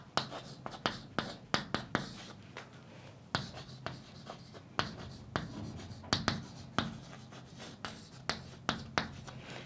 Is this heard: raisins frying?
no